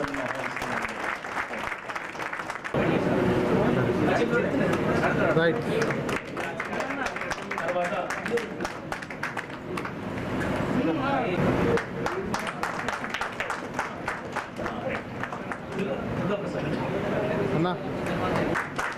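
Applause from an audience at an installation and swearing-in ceremony for a town shop owners' association, sustained dense clapping through most of the stretch with brief lulls, mixed with crowd noise and voices.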